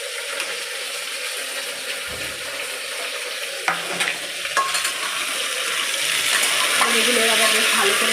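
Ridge gourds and other vegetables fry in a pan with very little oil while a spoon scrapes and stirs them in a few distinct strokes. A soft sizzle swells louder toward the end.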